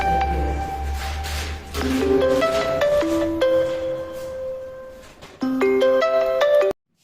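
A mobile phone ringtone for an incoming call plays loud and close as a bright melodic tune of clear electronic notes. A low hum runs underneath, and the tune stops abruptly at the end.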